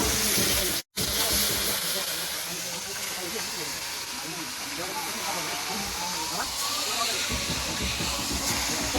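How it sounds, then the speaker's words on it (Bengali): Fish frying in oil at an outdoor winter picnic makes a loud, constant hiss that runs throughout, broken by one brief dropout near the start. "এই যে দেখতে পাচ্ছ এখন মাছ ভাজার প্রসেস চলছে আমাদের।"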